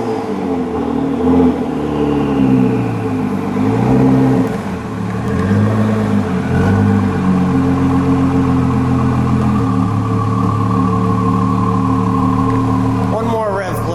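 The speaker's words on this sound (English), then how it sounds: "Let's give it a little rev in track mode," 2017 Ford GT twin-turbo V6 in track mode, revving repeatedly with rising and falling engine pitch over a steady close idle, several blips in succession.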